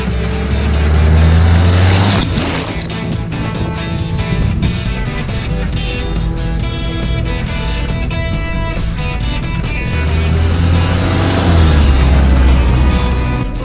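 A camper van drives along a flat forest road, its engine and tire rumble droning steadily and loudly throughout, with no talk.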